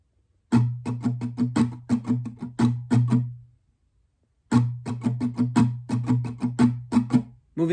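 Close, clear guitar strumming plays pattern 1C from a song, two repeated phrases of quick rhythmic strokes separated by a short silence, with no voices.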